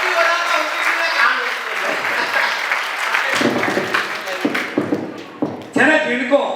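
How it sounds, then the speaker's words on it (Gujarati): An audience at a Padsala family get-together and felicitation ceremony claps in a dense, steady burst of applause, with a few sharper individual claps toward the end. "એક જોરદાર તાળી થઈ જાય."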